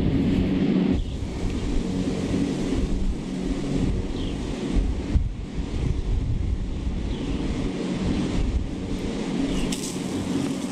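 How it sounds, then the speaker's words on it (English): Strong outdoor wind buffets the microphone in a steady, loud roar with gusty low-end rumble throughout, heard during an attempt to test homemade colored pyrotechnic powder; no one speaks. "It's pretty windy right now,"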